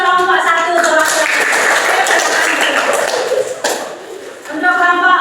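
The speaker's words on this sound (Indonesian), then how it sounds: "Tepuk tangan dulu buat kelompok 1 perwakilan." Classroom audience applauding a group 1 representative, a dense steady patter of many hands lasting several seconds, with a voice talking at the start and end.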